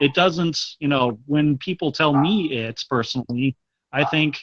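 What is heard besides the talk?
No everyday noise stands out behind the speech.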